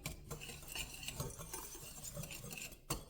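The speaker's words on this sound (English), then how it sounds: "And then I'm just gonna whisk it." Cinnamon and nutmeg being whisked in a bowl, a quick, steady scraping and clinking of the whisk against the bowl, close and fairly quiet, without talk.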